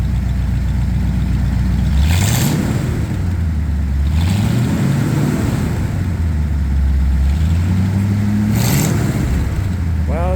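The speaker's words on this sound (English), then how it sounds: "Rev it up again" Ford F100 V8 with shortened glass pack mufflers revving repeatedly, loud and close, with several throttle blips rising and falling over a deep steady idle.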